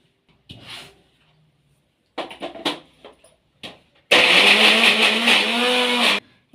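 Mixer grinder grinding raw mango with mint, green chilli, salt and jaggery, with short stuttering pulses and then a loud steady whirring run of about two seconds that cuts off abruptly.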